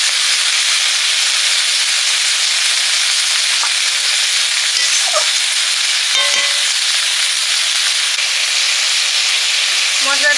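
Spice paste and meat fry in oil, making a steady, loud broadband sizzle that runs through the whole stretch, with a few faint stirring clinks and scrapes near the end.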